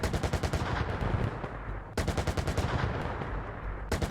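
Tank gunfire and impacts in the PC game Gunner HEAT, two loud bursts of rapid machine-gun fire about two seconds apart, each trailing into a rumbling echo, with no voices over them.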